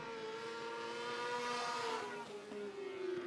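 Sprint car lapping a dirt race track, its engine a continuous loud drone whose pitch slides up and down as it runs through the corners, with no talk over it.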